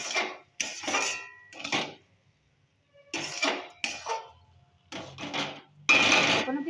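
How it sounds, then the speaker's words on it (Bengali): Metal spoon scrapes and clinks against a pot as sugar is stirred into cooking curry, in separate bursts with short pauses between them. "এটা ভালো করে রান্নাটার সঙ্গে মিশিয়ে দেবো"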